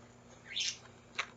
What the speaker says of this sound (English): It's my birds right now.